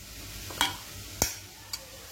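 Onions frying in a pan at home while chicken is prepared alongside, giving a low steady sizzle broken by three sharp clinks or scrapes of a utensil, close by and with no talking.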